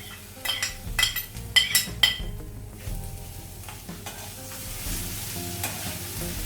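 Grated coconut roasting with small shallots and curry leaves for Thrissur-style varutharacha sambar, with close stirring scrapes and clinks of a utensil against the pan at the start, then a steady soft sizzle of frying.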